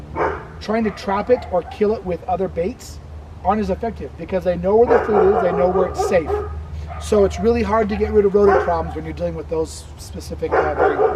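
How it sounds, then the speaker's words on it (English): Dogs bark and yip outdoors in residential yards, their repeated barks and whimpers sounding beneath someone talking close by. "Sorry about the dogs"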